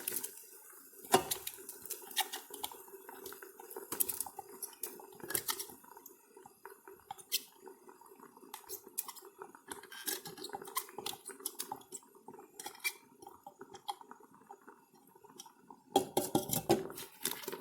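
Organic onions tipped into a Ninja Foodi cooking pot, giving repeated clattering knocks and soft squishy thuds of vegetables hitting metal, with scraping and utensil clinks throughout and a louder burst of clatter near the end.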